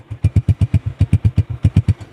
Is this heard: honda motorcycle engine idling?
yes